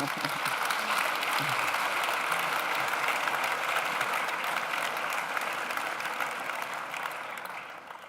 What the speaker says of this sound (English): I think they deserve a round of applause just to get us going